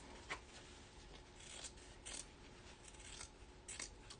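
Scissors snipping paper for a vintage-style art journal cover, a few quiet, close crisp cuts spaced irregularly over a faint background.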